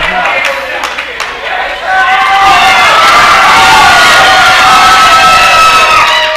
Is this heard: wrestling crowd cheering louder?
yes